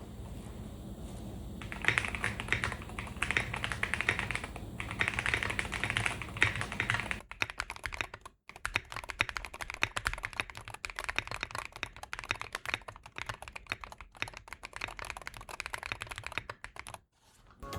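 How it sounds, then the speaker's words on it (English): Steady typing on a Hall effect mechanical keyboard, a continuous stream of close, fairly loud key clacks with no talk, the tone turning slightly sharper and more sparse partway through. "The thing is that HE boards usually don't sound the best, so I do not think I really achieved my goal of having a Thocky keyboard"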